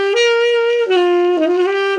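A solo instrument plays a short, smooth melodic phrase of a few sustained notes with rich overtones, a blues scale resolving into a dominant 7 scale, loud and close with no talking.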